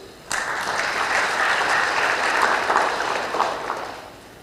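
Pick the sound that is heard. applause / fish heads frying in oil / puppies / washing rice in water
applause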